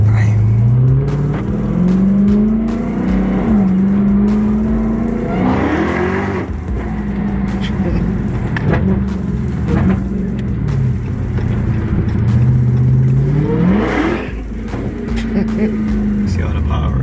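A 2019 Dodge Charger Hellcat engine revs and accelerates hard from inside the car, a loud, close rising roar through repeated gear pulls with drops between shifts, while passengers talk over it.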